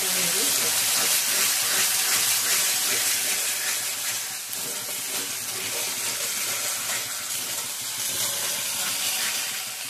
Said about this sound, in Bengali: এই তেলের মধ্যে আদা রসুন পেঁয়াজ বাটাটা দিয়ে দিতে হবে